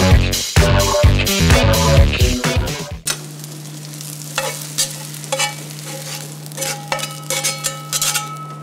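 Onions and sauce simmering in a pan, first a loud stretch of rhythmic clattering stirring, then a steady low bubbling sizzle punctuated by occasional scrapes and taps of the utensil.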